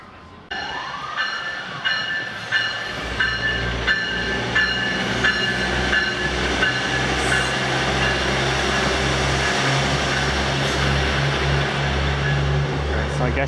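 A train rumbles loudly into a Toronto station, with a rhythmic ringing bell at first and a building, continuous roar of cars rolling close by.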